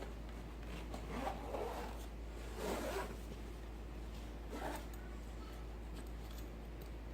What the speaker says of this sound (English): It's got two zippers on that side